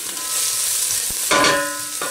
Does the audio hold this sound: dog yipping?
no